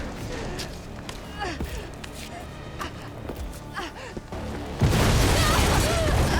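A car explodes in Resident Evil 3: after scattered footsteps and thuds, a sudden loud burst erupts into a sustained, dense roar that fills the last couple of seconds.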